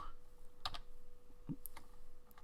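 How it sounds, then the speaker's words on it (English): Keys tapped on a computer keyboard while entering text into a shape, a few soft, scattered clicks over about two seconds, quiet and close, with no talking. "at the moment I'll start typing where I am"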